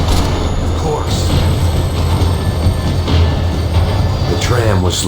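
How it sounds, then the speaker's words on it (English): A tram slowing down in the Max Payne 3 video game rumbles and rattles along its tracks with steady low-end roar and faint metallic wheel squeals, loud and continuous. "The tram was slowing down"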